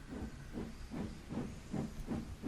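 Steam engine Edward pulls away into a tunnel with rhythmic chuffing hisses, about six steady bursts of steam in quick succession over a low rumble, close and continuous.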